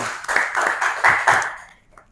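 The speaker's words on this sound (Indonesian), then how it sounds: "beri aplaus untuk Bayu" A classroom of students applauds their classmate Bayu, with several quick bursts of clapping that swell and fade out within about two seconds.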